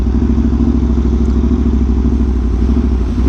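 A loud, steady engine drones close by, with a deep pulsing low rumble that stays even throughout, from a motorcycle among a group of sport bikes including an H2, V4R, R1M, M1000RR and RSV4 1100.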